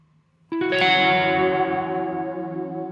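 One guitar chord is struck through a Walrus Audio Slö multi-texture reverb pedal set to dark mode. It blooms into a wide, shimmering wash that sustains and slowly fades, alone and up close.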